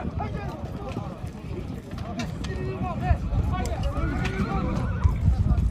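Horses at a kok-boru (ulak) match in Kara-Darya village whinny repeatedly, with shrill rising calls and clip-clopping hooves over a steady crowd rumble, with voices mixed in.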